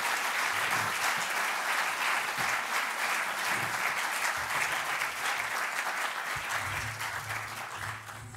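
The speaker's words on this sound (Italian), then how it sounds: "anche solo un applauso per dire grazie" Audience applause of thanks at a talk on Giuseppe Dossetti, a dense, steady crowd clapping that fills the whole stretch and eases slightly toward the end.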